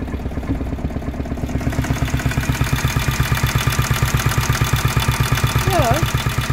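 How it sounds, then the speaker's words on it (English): Volvo Penta MD05B diesel engine on a sailboat idles steadily with an even rapid knocking throb, loud and close throughout, with a brief faint chirp near the end. "So I started the engine and it's going on idle"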